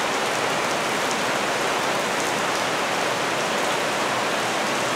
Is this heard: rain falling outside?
yes